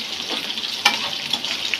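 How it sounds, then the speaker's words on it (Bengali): Food frying in a pan with oil, browned ingredients sizzling steadily with a brief stir clatter, close and continuous, before chicken is added. "মুরগি দিয়ে দেবো, ভাজা ভাজা হতে থাক।"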